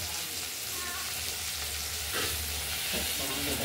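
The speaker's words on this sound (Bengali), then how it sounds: "আমরা আলু শিমগুলো" Potato pieces and flat beans fry loudly in an oil-filled pan, a dense, unbroken sizzle and hiss close up, with a few stirring scrapes partway through.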